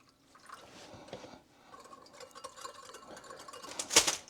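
Water poured into a small batch of sauce for vegan gyudon, a soft splashing trickle with drips that builds near the end and finishes in a brief, sharper splash.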